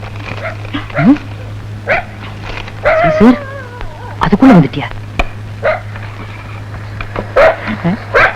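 A tracker dog, rushed in from Madurai to find a killer in a comedy scene, gives several short, sharp barks and yips scattered between people talking.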